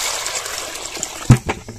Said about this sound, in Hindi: पानी डाल दिए हैं तो चलिए इसको बढ़िया से धो लेते हैं।